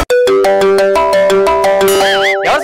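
A phone ringtone plays loud and close during a comedy skit, with a repeating electronic melody of clean, bell-like notes that ends in wavering, warbling tones.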